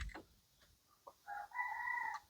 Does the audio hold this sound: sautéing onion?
no